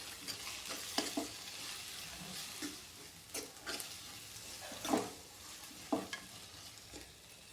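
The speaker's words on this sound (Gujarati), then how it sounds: "એને મિક્સ કરી લઈએ।" A spoon stirs fenugreek greens with salt and turmeric in a frying pan, producing soft sizzling and a series of irregular scraping strokes, quiet and close, with no talk.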